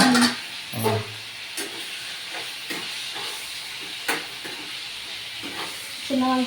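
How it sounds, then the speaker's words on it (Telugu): Brinjal (eggplant) pieces stirred in a pan with chilli powder and salt, giving a steady hiss and sizzle with repeated scraping strokes, several sharper clinks of the spoon spaced through, close and moderately loud with no talking. "ఒకసారి వంకాయలు కలుపుకున్నాను"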